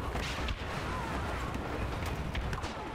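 Rapid blaster gunfire and explosive booms from a Star Wars battle video game, a dense continuous barrage of shots filling the whole moment with no pause.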